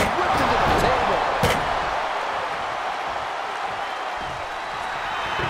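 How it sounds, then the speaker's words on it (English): Wrestler whipped into a table in a wrestling video game, a sharp slamming thud early on over a continuous arena crowd roar, with a commentator talking throughout. "Just whipped into the table."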